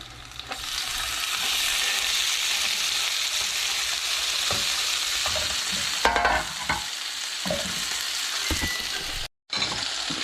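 Steady sizzling of scorpionfish frying in a pan, continuous and fairly loud, with occasional clinks and scrapes of a utensil, briefly cut out near the end.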